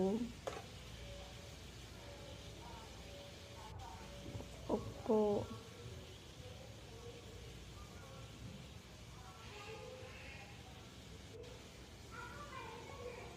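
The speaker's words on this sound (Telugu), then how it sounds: "లివర్ మంచిగా మిక్స్ చేసేసి కాసేపు వేగేంత వరకు పెట్టి" Liver frying and being stirred in a pan at home, with a faint steady sizzle and occasional soft scrapes of a spoon against the pan.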